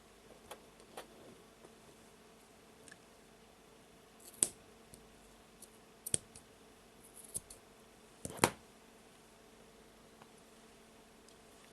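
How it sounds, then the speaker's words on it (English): Scissors snip through bracelet cord in a few quiet, sharp cuts separated by pauses, the loudest near the end, close by in an otherwise quiet room. "let's put the knots next to each other and let's cut the cord."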